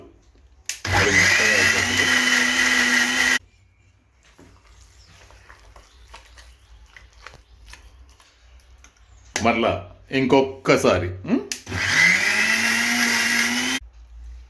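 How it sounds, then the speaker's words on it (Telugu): A mixer grinder whirs loudly in two separate runs, blending red chili paste, separated by a quieter stretch of clattering and handling, with a voice speaking briefly. "ఒక్కటికి రెండు సార్లు మిక్సీలో వేసి దాన్ని ఇంకా ఫైన్గా చేసి"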